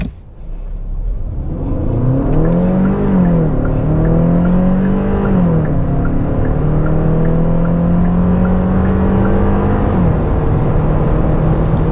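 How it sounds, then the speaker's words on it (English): A 2026 Hyundai Palisade Hybrid Calligraphy accelerating hard up to highway speed, its engine note climbing through several gear-like steps with a steady whir and road roar, loud and close from inside the cabin, with no talking. "Very strong acceleration up to highway speeds"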